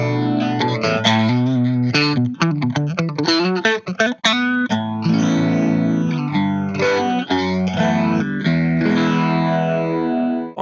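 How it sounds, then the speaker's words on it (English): Guitar played through an analog phaser pedal set to its 10-stage setting, giving a dense, swirling, chewy sweep over busy chords and picked notes, loud and continuous with no talk. "This is the most intense phaser, analog 10 and 12 stage phaser."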